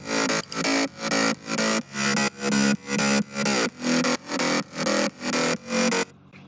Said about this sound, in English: Moving on to the mid bass, it sounds like this.